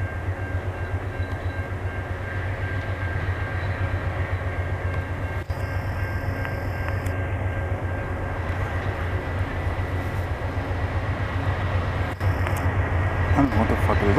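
A Via Rail passenger train rolls past in Montreal with a loud, steady rumble and clatter of wheels that holds for the whole stretch, close by, with a couple of brief breaks in the roar.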